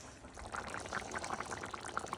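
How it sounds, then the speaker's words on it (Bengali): Tangra fish dropped into a pan of potatoes and onions, giving a brief, steady wet sizzle and splashing, fairly soft and close, with no talk. "আলু পেঁয়াজগুলোর মধ্যে এখন আমি এই ট্যাংরা মাছগুলো ছেড়ে দেবো মানে দিয়ে দেবো।"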